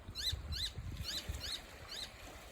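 A bird chirping outdoors, five evenly spaced short bright chirps about half a second apart, moderately near, over faint low background rumble.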